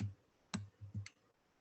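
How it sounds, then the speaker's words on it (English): A few soft clicks from a Chromebook while drawing a line: a light tap, then two more a moment later, quiet and close, with no talking. "I come here, click."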